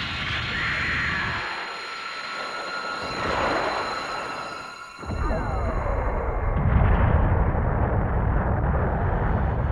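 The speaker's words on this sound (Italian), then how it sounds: "Cannone esplosivo! Fuoco!" Explosive cannon artillery fire in the video game Cosmic Fantasy 2: a loud roaring rush builds, breaks off sharply, then a heavy booming blast follows and rumbles on continuously to the end.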